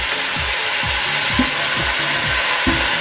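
Boiled noodles stir-fried in a hot pan for chicken Hakka noodles, a loud continuous sizzle with repeated scraping strokes of a spatula at a steady rhythm, close up and with no talking.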